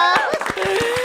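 Several sharp hand claps ring out at a quick, even pace in a podcast studio, mixed in with people talking and laughing.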